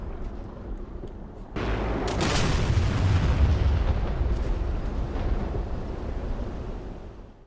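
A bomb detonates in the DCS World flight simulator after release from a warbird in a steep dive, hitting with a sudden loud boom that swells into a long rumbling roar and slowly fades.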